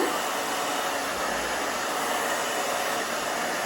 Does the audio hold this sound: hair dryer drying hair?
yes